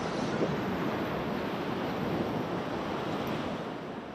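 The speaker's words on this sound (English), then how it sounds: "Super hard with the waves though." Ocean waves surge against a rock ledge in Sydney, a steady loud wash of surf with wind rushing across the microphone, filling the whole stretch without a break.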